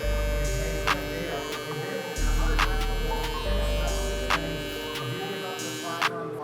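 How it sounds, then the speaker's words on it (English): Electric hair trimmer buzzing steadily at close range during a barber's lineup on a client's taper fade, with a continuous low motor hum, brief gaps where it stops, and sharp clicks of the blade against the head. "Since I already got the trimmer in my hand, I'm gonna go ahead and line up my client back here."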